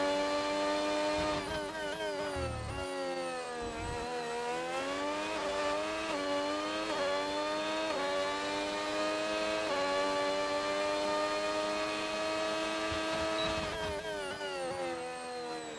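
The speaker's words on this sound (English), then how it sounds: "Let's go on board with Jenson just to hear that engine" An onboard race car engine at the iRacing Singapore circuit screams through rising and falling gear changes, with sharp upshifts and revs climbing steadily, loud and close throughout with no talk.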